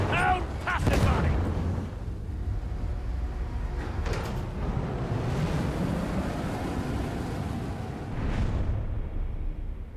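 Grenade blasts in the game Warhammer 40K Darktide, a deep booming explosion early on followed by rumbling, crackling battle noise and further thuds, with a voice talking partway through.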